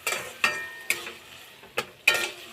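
Greens tossed into a pan after prawns were fried give off a soft sizzle, broken by about five sharp scrapes of stirring spread evenly across the moment.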